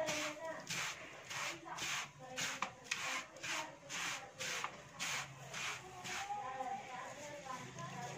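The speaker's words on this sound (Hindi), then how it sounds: "और इसको एक बार अच्छे से मिक्स कर लेंगे।" Peanut laddoo mixture with dry ginger and nutmeg powder being mixed, giving a steady series of rhythmic rubbing, scraping strokes, close and moderately loud, repeating through the whole stretch.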